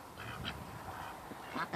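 A duck hen sitting on a clutch of about fifteen eggs on a farm gives soft, faint quacks against steady outdoor background noise, with a couple of sharper calls near the end.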